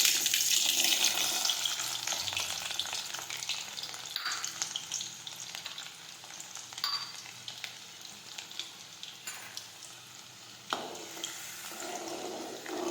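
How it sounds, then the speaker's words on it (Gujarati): Mustard seeds and garlic fry in hot oil for a Gujarati vasedi bhaji, making a dense, steady sizzle that starts loud and eases slightly, with a few faint scrapes and no talking. "હવે આપણું તેલ છે તે ગરમ થઈ ગયું છે. હવે આપણે તેમાં રાઈ નાખી દઈશું. હવે આપણે તેમાં લસણ નાખી દઈશું."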